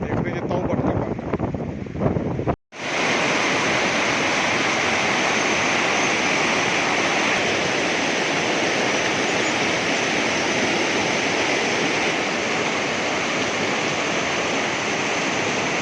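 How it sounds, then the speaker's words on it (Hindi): The Neelum River, also called the Kishan Ganga, rushes by steadily as a loud, close roar of flowing water, a broad continuous wash that never lets up after a brief cut near the start. "पानी की आवाज़ तो आ रही होगी जी आपको"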